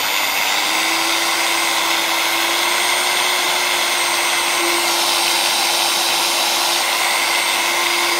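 A DeWalt angle grinder runs on speed setting 4 with a loud, steady, high-pitched whirring drone that holds nearly constant for several seconds, close up and without voices.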